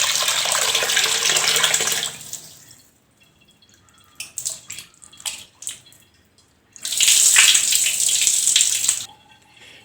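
Tap water runs loudly over raw country chicken as it is rinsed in a kitchen sink, with a long gush, a quieter stretch of scattered drips and splashes, then another strong burst of running water.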